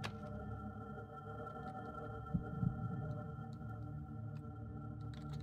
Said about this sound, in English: Why can I hear my heartbeat?